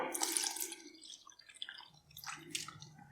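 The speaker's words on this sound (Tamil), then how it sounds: "இன்னொரு கப்பு தண்ணி சேர்த்துக்கலாம்." Water is poured into dosa batter made with coconut milk, giving splashy trickling and dripping sounds that come in bursts, close up and moderately loud.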